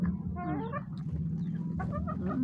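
Chicken clucks and squawks come in short rising bursts over a steady low hum, close by and moderately loud.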